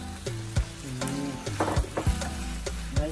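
Vegetables for spaghetti bolognese sizzling steadily in a hot pan, a continuous close fry broken by a few clanks and scrapes of a spoon stirring, with no talking.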